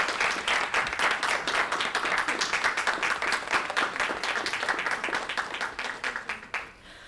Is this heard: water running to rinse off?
no